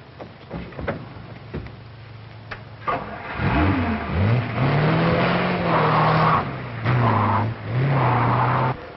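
A car engine turns over and starts, then revs up loudly, rising and falling through several accelerating surges close by, with a few sharp clunks at the start.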